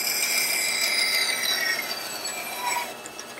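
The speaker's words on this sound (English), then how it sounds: "Turn on your bandsaw, make sure it's tight, and now I'm going to just basically put an angle on it" A bandsaw cuts an angle into a piece of wood with a steady, close rasping whine that fades slightly as the cut goes on.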